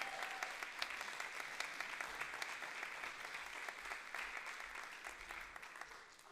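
A roomful of people clap for students at a city budget public hearing in Hartford, with steady, dense applause holding through the whole stretch and slowly tapering toward the end, without talk.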